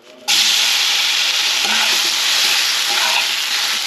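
Mashed chalta hits hot oil in a kadai with five-spice and dried chili, setting off a sudden loud, steady sizzle that keeps crackling without a break.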